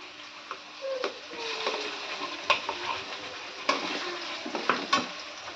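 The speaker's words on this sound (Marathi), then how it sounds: "आता हा तेलात तेल सुटेपर्यंत परतवून घ्यायचा मसाला" Ground masala sautéing in oil in a pan, a soft continuous sizzle broken by sharp scraping stirs and clicks of a spoon against the pan, close and moderately quiet, with no voices.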